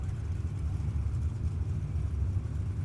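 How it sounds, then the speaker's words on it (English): A 632 cubic inch big block Chevrolet-powered Mustang at a drag racing event: a deep, continuous engine rumble that stays fairly steady and sounds somewhat distant, with no other noise on top. "Here comes Steve Satterley, the 632 cubic inch big block Chevrolet powered Mustang"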